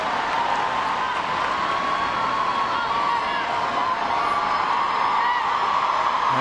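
A stadium crowd roars in a steady, unbroken wall of cheering for Rose Lavelle at a USWNT versus Ireland soccer match on the Victory Tour. The noise holds evenly loud throughout, with no single voice standing out.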